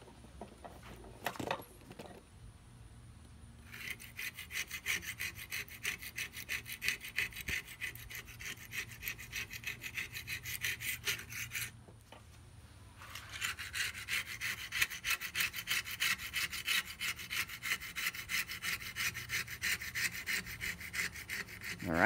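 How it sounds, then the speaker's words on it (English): A razor blade scraping an old, peeling gasket off the rim of a Kamado Joe ceramic grill, heard as long, close, rapid rasping strokes with a short pause between two scraping passes. "use this razor to scrape along the top edge here"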